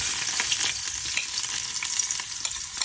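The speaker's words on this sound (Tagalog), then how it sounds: "tutustahin po natin yung ginger ng konti dahil mas masarap po yung pagtustado para sa lugaw" Ginger toasts in a hot pan for chicken tinola, a dense, continuous close-up sizzle with faint crackles and the occasional scrape of stirring, with no voices.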